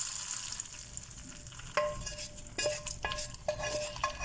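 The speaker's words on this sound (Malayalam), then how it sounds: "ഓഫ് ചെയ്തതിന് ശേഷം കടുക് വറുത്ത് വയ്ക്കാം." Mustard seeds frying in hot oil for tempering a moringa leaf dal curry, a soft sizzle with a spoon stirring and scraping the pan, then several sharp clinks of metal utensils toward the end.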